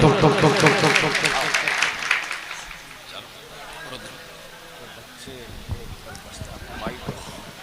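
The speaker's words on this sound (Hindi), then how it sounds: "आपकी पुरजोर तालियों के बीच" Enthusiastic applause from a crowd at a poetry recital fills the opening seconds, then thins into scattered claps amid murmuring and crowd noise.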